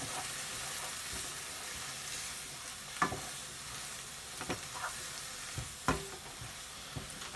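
A fish curry sauce, the gravy base, is stirred in a frying pan, giving a steady low sizzle with a few sharper scrapes and clinks of the spoon against the pan at irregular moments.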